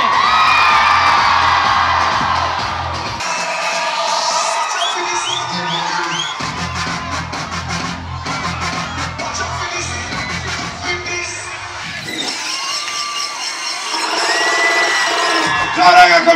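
A large concert crowd at a club shouts and cheers on cue, a sustained roar of whoops and yells that keeps going under loud music with a heavy beat.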